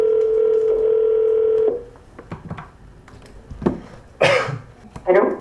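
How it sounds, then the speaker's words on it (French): A steady telephone dial tone hums for under two seconds as a call is placed, then cuts off, followed by a few clicks, a cough or throat clearing, and someone speaking. "Allô? J'appelle Mathilde."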